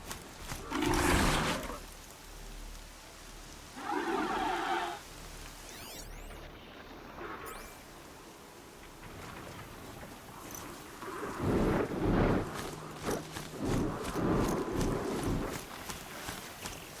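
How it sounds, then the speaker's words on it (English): Rain falling and thunder rumbling in the video game Horizon Zero Dawn, with heavy rolling bursts near the start and later, over a steady wet background hiss. "Pressure's lifting. Rain's here."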